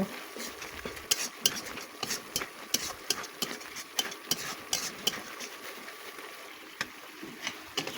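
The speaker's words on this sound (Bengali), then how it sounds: "এখন সমস্ত মশলা ভালো করে নেড়ে কষিয়ে দিব" Ground coriander and cumin are stirred and fried in a pan with a spatula, giving a rapid run of scraping clicks and taps over a soft background sizzle, with no one speaking.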